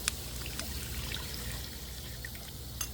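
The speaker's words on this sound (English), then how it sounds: "we're going to pour this in here to get this boiling." Liquid poured for chicken wild rice soup on an outdoor Blackstone griddle, a steady trickling, splashing pour close by with a few brighter splashes, no talking.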